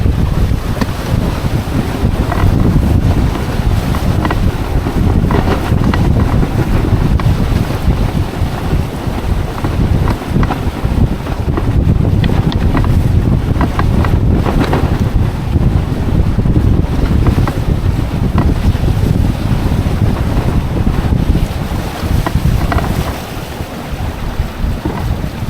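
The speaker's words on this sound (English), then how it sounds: "every now and then we get a really good gust." Strong wind buffets the microphone aboard a WindRider 17 mini trimaran sailing at about ten knots, with water rushing along the hulls in a loud, continuous roar that swells with gusts.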